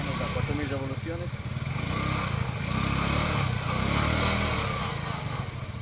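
An Axxo Viper 180cc motorcycle engine revs in a loud, steady drone that swells through the middle and eases slightly toward the end, with a faint voice briefly audible early on.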